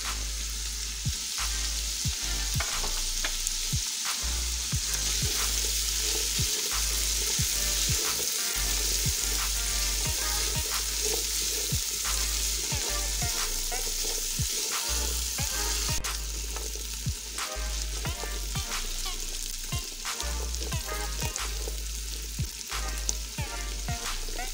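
A spoonful of garam masala and star anise fry in hot oil for chana pulao, a continuous hissing sizzle with intermittent stirring knocks, steady and close over a long stretch.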